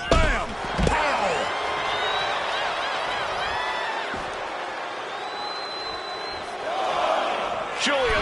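A wrestler crash-lands outside the ring in WWE 2K25, with a heavy thud near the start, a steady roar of arena crowd throughout, and another impact burst near the end, loud and close.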